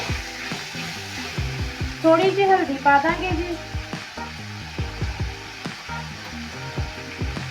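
Tomatoes and spices for a black chickpea gravy tempering sizzle loudly in a pan, with repeated scraping strokes from a stirring spoon at a steady rhythm, close by, while a voice speaks briefly over the cooking.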